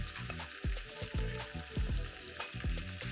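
Liver and chopped onion sizzle in a frying pan with a constant crackling hiss, while a utensil knocks against the pan every half second or so as the mixture is stirred.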